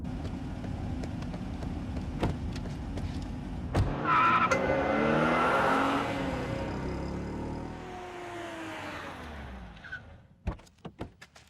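A car in a Hindi movie scene revs and pulls away, its engine swelling to a loud close rush before fading into the distance, followed by a few sharp clicks and thumps.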